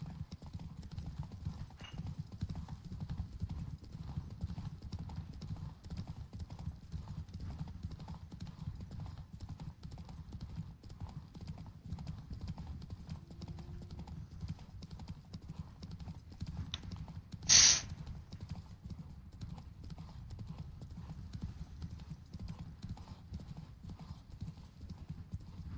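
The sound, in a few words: horse galloping in video game The Witcher 3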